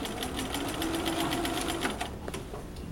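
A sewing machine stitches a collar seam with a quiet, rapid, rhythmic whir that runs steadily for about two seconds, then slows and stops.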